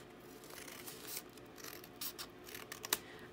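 Scissors snipping coffee-dyed paper for a pocket booklet, quiet close rustling with a few crisp cutting snips and a sharper click near the end, otherwise soft and without voices.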